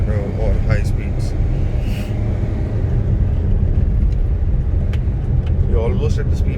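A 2010 Ford Fiesta diesel sedan driving at speed, its steady engine and road rumble droning loudly from inside the cabin, with faint chirps and brief sounds above the continuous low noise.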